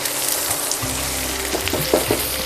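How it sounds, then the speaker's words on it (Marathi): Onion frying in a hot pan while it browns for chickpea khichdi, a steady close sizzle with occasional scraping stirs and no voices. "आता हा कांदा जरा परतून घेऊया चांगला"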